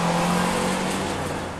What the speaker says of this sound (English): It revs freely and it does not get noisy in the process.